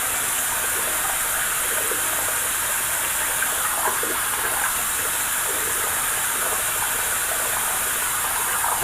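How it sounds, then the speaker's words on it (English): Hot tap water runs steadily into a sink while preparing to wet the face for shaving, a constant close rushing gush with no speech. "it's always good to start out this way, is to get your water hot again."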